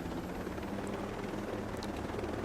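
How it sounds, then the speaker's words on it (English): A helicopter flies in the video game Ghost Recon Breakpoint, its rotor and engine giving a steady, loud droning whir that fills the moment without any speech. "When you're flying a helicopter, you want to avoid being too high like I am now."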